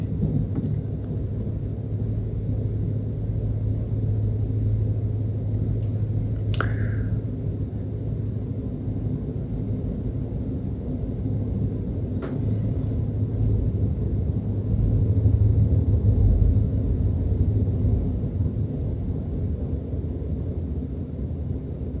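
Thunder rolls during heavy monsoon-season rain in Korea: a long, low rumble that stays steady and swells slightly near the end, with no one talking.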